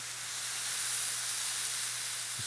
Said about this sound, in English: It's sizzly, it smells great, it's juicy.